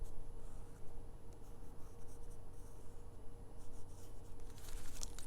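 A light-colored pencil drags across fabric while drawing shapes, making a continuous soft scratchy rubbing close up with small rhythmic strokes and no talk.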